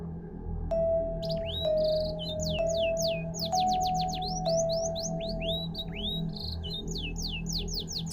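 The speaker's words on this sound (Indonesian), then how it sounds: "Suara burung-burung hutan dan hewan kecil terdengar samar di kejauhan." Forest birds chirp and tweet in rapid, repeated bursts of high whistled notes over a low steady background hum, joined by a few sustained tonal calls early on.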